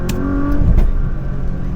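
Car engine revving hard under partial throttle during a Tokyo JDM tour, a loud sustained mechanical roar with a brief surge in the middle and no talking over it.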